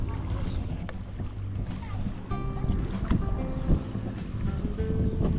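A motorboat passes on Taal Lake, where the waves run strong toward the center, giving a steady droning engine rumble with water wash that swells slightly as it nears.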